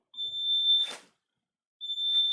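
Two high, steady electronic beeps from a homemade 555-timer metal detector, each lasting about a second with a short scraping rustle between them.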